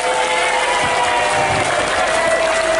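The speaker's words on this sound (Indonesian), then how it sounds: "Tepuk tangan buat mereka." A crowd at an Indonesian gathering claps steadily for the top three prize winners, with dense sustained applause filling the room and faint cheering beneath.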